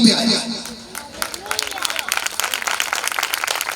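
A church congregation claps during a sermon, a dense patter of many hands that builds after a brief spoken moment and keeps going, fairly close and lively.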